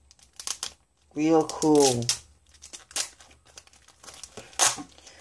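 Tape is torn and crinkled off a plastic graded trading card bag in short, sharp rustling and ripping bursts, close by, with someone speaking briefly between them.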